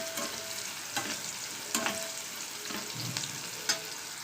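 Pieces of bitter gourd fry in hot oil for a Telugu masala curry, giving a soft, steady sizzle with occasional stirring clicks and scrapes.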